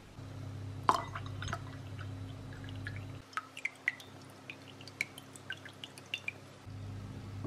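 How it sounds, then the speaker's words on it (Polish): Cold still water trickles into tea with honey and lemon, a series of small close drips and liquid plinks against glass over a low background hum. "przed chwilą dolałam do niej zimnej wody niegazowanej"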